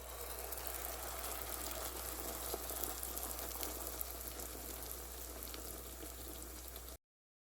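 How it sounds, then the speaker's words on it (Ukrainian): Steady, dense sizzling of Ukrainian perepichky flatbreads frying in a hot pan, a continuous crackling hiss with no talking, cutting off abruptly at the end. "Обсмажую перепічки на гарно розігрітій сковорідці."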